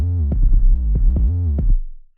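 A trap beat's 808 bass pattern with sliding notes, deep booming tones gliding between pitches under sharp percussive hits, loud and close, ending in a fading tail.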